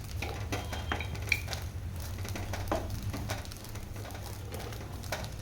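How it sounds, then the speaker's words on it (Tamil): Onion with chilli and coriander powders sautés in a pan at home, giving a low, steady sizzle with light scraping and stirring clinks. No talking. "கொஞ்சம் வதக்கிட்டு அப்புறமா கரம் மசாலா ஆட் பண்ணிக்கணும்."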